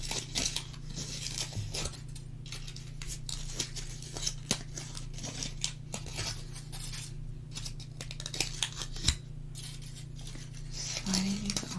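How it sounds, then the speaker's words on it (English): Foil wraps are slid off fingernails, giving soft, close crinkles and small crackling rustles scattered over a low, steady background hum. "So I'm going to start by taking off the foil."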